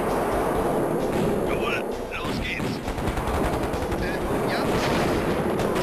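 Rocket turrets in the KKND strategy game fire dense, rapid volleys of explosive bursts that crackle on without a break, loud and close, while a voice talks over them.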